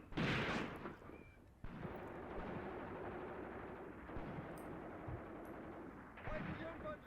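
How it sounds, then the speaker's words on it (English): Sustained battlefield gunfire from soldiers in Graviteam Tactics, WWII Luga Line fighting at Peleshi, rolls on as a dense crackle of rifle and machine-gun shots with heavier bursts at the start and near the end, moderately distant. "Looks like they're just shooting on wounded troops."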